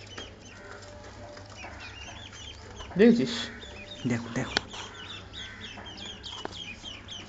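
Ducks being fed rice let out a few short quacks around the middle of the clip, close and moderately loud amid low background noise, while people talk nearby.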